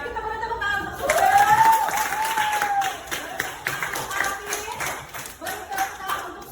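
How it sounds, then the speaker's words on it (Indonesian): Classroom audience clapping in applause, a dense burst of hand claps that swells and then thins into scattered claps, with a voice rising briefly over the clapping. "Kita boleh tepuk tangan"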